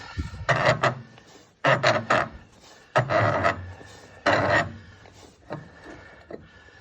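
Scraping, rasping turns as a wire wheel's knock-off spinner is spun loose by hand, several gritty metallic bursts in a row that fade toward the end, close up with no talk.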